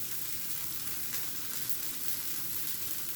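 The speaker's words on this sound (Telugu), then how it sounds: "దీంట్లోనే మనకి ఉల్లిపాయ ముక్కలు వేసుకుందామండి." Chopped onions sizzle steadily in hot oil in a pan, a dense, even crackle close by that runs without a break and with no talking.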